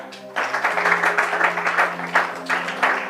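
A church congregation breaks into applause during a Bible teaching broadcast, with sustained clapping from many hands that rises sharply after a brief quiet start and continues in pulsing waves over a low steady hum.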